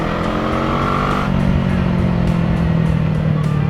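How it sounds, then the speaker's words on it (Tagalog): An FKM Falcon X400 motorcycle accelerating hard, its loud, close engine note rising and shifting pitch steadily with a sustained roar and heavy wind rush throughout. "Okay i-enjoy ako sa motor na to pag inaarangkada."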